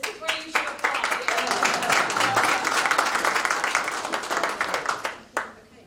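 Audience applause at an economic development commission meeting, a steady wash of many hands clapping for about five seconds before it tapers off, with voices murmuring faintly underneath.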